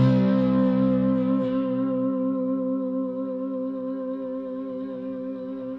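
A sustained slide guitar note in standard tuning with gentle vibrato and light distortion, ringing loud and alone before slowly fading, its harmonics wavering slightly.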